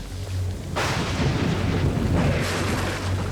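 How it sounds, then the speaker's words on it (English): Thunder from a huge tropical storm tearing through an island camp, a heavy rumbling crack that swells and rolls on over steady rain and wind noise. "huge tropical storm is now tearing through camp."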